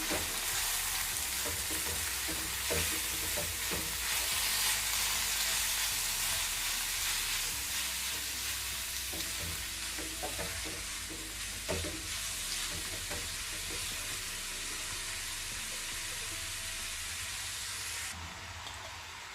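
Potato and cabbage for aloo cabbage, mixed with chaat masala, fry and get stirred in a pan: a continuous bright sizzle with repeated spoon scrapes and knocks, close up and without speech, the sizzle dropping slightly near the end.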